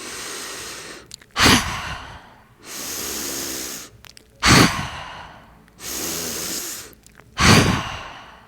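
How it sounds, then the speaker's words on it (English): Deep yogic heart breath during a yoga therapy session. Three cycles of long hissing inhales through the mouth each end in a forceful, loud exhale, repeating evenly about every three seconds, close up and without speech. "Bend in the knees for the heart breath. Inhale."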